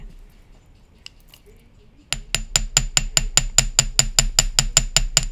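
Hammer striking wire to shape a bangle bracelet, a rapid steady run of about fifteen sharp metallic taps close up after a quiet stretch.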